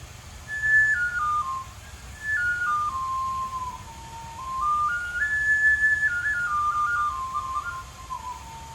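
Tiny homemade Native American flute playing a slow, breathy melody of sustained tones that step up and down over about nine seconds, heard alone against faint low background rumble.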